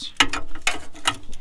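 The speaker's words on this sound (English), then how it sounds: "So now we're gonna pull out both bolts." Ratchet wrench on an extension removing bolts from a Volkswagen/Audi Haldex AWD pump, three quick close clicking bursts in steady rhythm, clear and alone.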